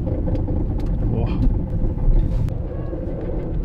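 A Mercedes with a corroded rear axle rumbles along, a loud, continuous low-frequency drone with irregular knocks and rattles.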